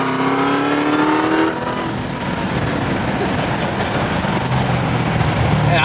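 Dodge Hellcat engine revving on the road, a loud rising rev that cuts off after about a second and a half into a rumbling cruise with road noise, then begins climbing again near the end.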